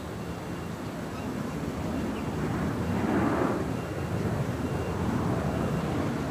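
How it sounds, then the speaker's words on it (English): An Airbus A350-900 arrives at LAX, passing as a broad, steady jet roar that swells slightly toward the middle and holds at moderate loudness, with no talk. "A350-900, next arrival on the north side."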